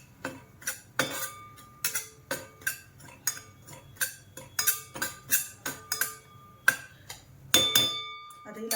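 A metal spatula scrapes and knocks against a pan while finger millet (nachni) is dry-roasted at home, a steady run of crisp rhythmic clatters about once a second, close and fairly loud.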